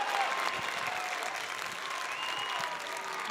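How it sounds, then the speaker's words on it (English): Fans of the Potosi and Cassville baseball team applaud at a state championship game, steady clapping heard from a distance, faint and continuous throughout. "Round of applause from the Potosi and Cassville fans here in attendance"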